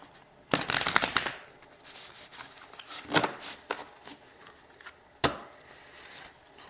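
Mini tarot cards riffled and shuffled by hand, a loud close flurry of papery flicks followed by softer rubbing and a few sharper slaps, alone in a quiet room.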